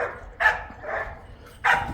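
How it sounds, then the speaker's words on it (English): Dogs bark in short bursts nearby, three or four sharp yaps spaced over a couple of seconds with a faint whimpering tone between, outdoors with no talking. "I can't concentrate with all the dogs barking"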